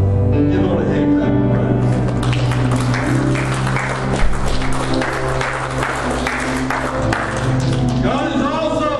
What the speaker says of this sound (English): Give Lord a hand clap.